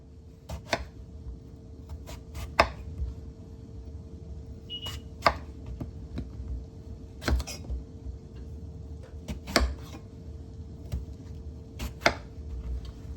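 A knife cuts eggplant lengthwise on a board for tilapia in coconut milk, giving sharp, irregular taps and knocks spaced a second or two apart over a low, quiet background hum.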